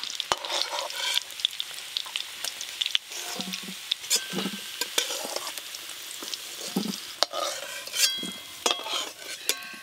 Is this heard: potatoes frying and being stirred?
yes